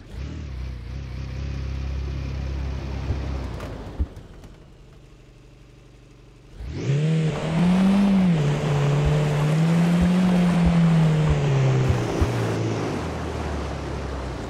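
A game car's engine revs and whines while it is stuck in mud in the horror driving game Beware. A sustained, loud, wavering roar rises after a brief lull, with a rough low rumble before it.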